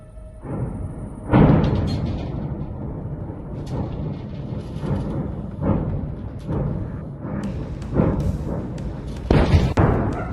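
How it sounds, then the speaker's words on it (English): Secondary detonations rumble at night after a HIMARS rocket strike at Nova Kakhovka: a continuous, distant roll of booms and crackling blasts, with sharper peaks scattered irregularly throughout. "This is a chaotic secondary detonation."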